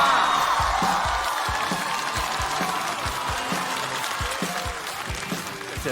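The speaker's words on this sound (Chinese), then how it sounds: "掌声有请南瓜！" Studio audience at a stand-up comedy show applauding and cheering as a comedian walks on, a dense, steady wall of clapping with scattered whoops throughout.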